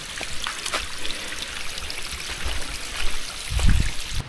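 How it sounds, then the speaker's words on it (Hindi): A small monsoon waterfall along a fort trek trickles and splashes steadily, with a soft continuous wash of water and a brief louder low rumble near the end. "लाइन से हमें ये अभी दूसरा छोटू सा वाटरफॉल दिखने मिला है।"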